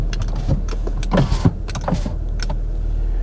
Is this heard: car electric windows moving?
yes